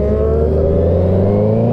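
A group of sport motorcycles, including a BMW S1000RR, rides together with a loud, steady engine drone and a sustained tone that holds throughout, with no talking.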